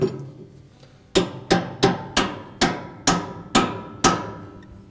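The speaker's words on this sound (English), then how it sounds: "with our spanner wrench, we'll tighten that on there" A spanner wrench on a Maytag washer's tub seal nut is struck with a hammer, giving eight sharp, evenly spaced metallic blows close by, each ringing briefly before the next.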